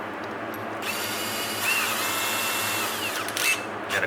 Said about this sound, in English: got a 1/4 inch drill bit